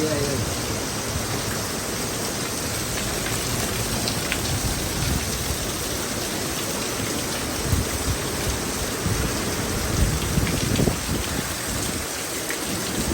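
Heavy rain pours steadily in Marrakesh, a dense, loud wash of drops, with low rumbles of thunder rolling beneath and a voice talking intermittently over the storm.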